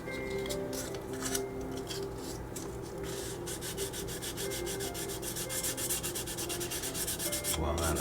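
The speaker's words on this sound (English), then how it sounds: "I'll just kind of do a little bit of sanding on this one too" Steady back-and-forth rubbing of sandpaper on a plastic scale model aircraft part, close up, with fast, even scratchy strokes that continue without pause and no voices.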